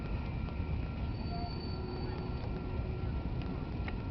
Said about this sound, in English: This train is out of here.